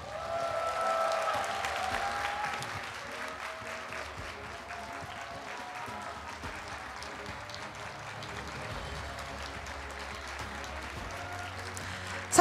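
A church congregation applauds the Bible quiz award winners, with a soft, steady patter of clapping that is heaviest at first and then thins to a quieter, sustained round in a large room.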